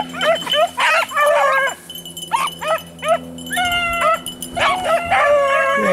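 Hunting dogs bay and yip on a scent outdoors, a loud, close chorus of overlapping howls and high barks in rapid bursts, continuing almost without pause.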